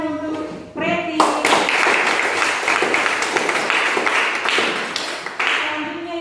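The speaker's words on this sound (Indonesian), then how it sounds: "Oke, kita berikan tepuk tangan untuk Preti." Classroom audience clapping for a student presenter, a burst of hand claps that starts abruptly after a brief voice and continues steadily at close range before trailing off.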